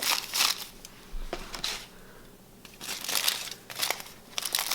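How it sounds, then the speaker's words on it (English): Aluminium foil for hair highlights being folded and crinkled, with bursts of close, crisp rustling and crackling separated by quieter pauses, no talking. "take your foil like so. And what I always do is I fold it like this."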